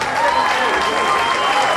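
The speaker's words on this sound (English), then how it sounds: "Would you want to give a big round of applause once again, please?" Loud, dense crowd applause fills a boxing hall after a three-round amateur ABA bout is decided, sustained and steady throughout with no break.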